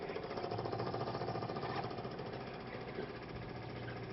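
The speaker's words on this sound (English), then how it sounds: "we're going to roll the bead off the rim" A Hunter TC3500 tire changer rolls the bead off a wheel rim, giving a steady, loud mechanical rumble with rapid, hammer-like vibration that runs unbroken from start to finish.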